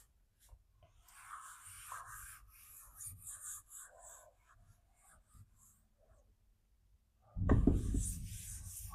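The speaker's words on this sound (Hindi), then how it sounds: "तब तक हम इसको मिटाकर ऊपर लिख दे रहे हैं" A board is erased and written on with quiet scratchy strokes and rubbing that come and go in short bursts, followed by a louder rough rubbing near the end.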